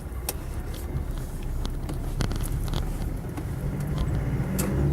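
A Land Rover Defender 90 County Station Wagon with the 300TDi diesel pulls away from a junction, a low rumbling engine drone heard steadily from inside with light rattles and clicks.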